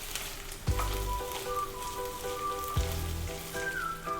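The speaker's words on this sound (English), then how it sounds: "At this point, I am also adding chilies." Eight chilies sizzling in hot oil in a pan with homemade upma mix over a medium flame, a steady close crackle with a couple of sharper spits.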